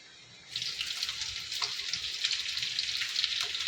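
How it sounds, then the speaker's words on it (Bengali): Green chilies dropped into hot oil with golden-fried garlic start a steady, bright sizzle that begins abruptly and holds close and loud, with small crackles and pops throughout. "রসুনটা গোল্ডেন ফ্রাই হয়ে গেছে। এবার আমি কাঁচা লঙ্কাগুলো দিয়ে দেবো।"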